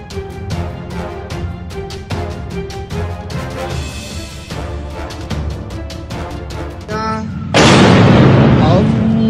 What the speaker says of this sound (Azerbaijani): Əfqanıstanın paytaxtı Kabildəki Prezident Sarayı yaxınlığında bayram namazı qılınan zaman əraziyə çoxlu sayda raket düşüb